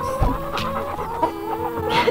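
Chickens cluck in a backyard chicken yard during molting season, a steady cluster of close, overlapping clucks and soft calls with a few louder bursts.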